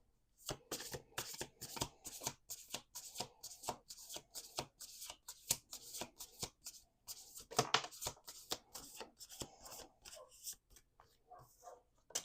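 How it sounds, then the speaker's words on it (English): Rapid bursts of a deck of cards being riffle-shuffled, repeated several times in quick crackling runs with brief pauses between, close and crisp. "We're going to do 2 more shuffles."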